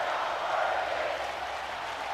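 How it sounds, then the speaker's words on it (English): Arena crowd in the WWE 2K26 wrestling video game: a steady, dense roar of many voices and clapping, even and sustained throughout with no distinct beats. "The crowd chanting, we're not worthy."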